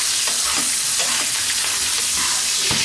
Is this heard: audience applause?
no